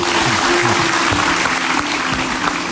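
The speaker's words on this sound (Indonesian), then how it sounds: "Kita kasih tepuk tangan dulu sekali lagi." A studio audience at an Indonesian television talk show claps in a steady, loud round of applause, with a faint sustained tone running underneath.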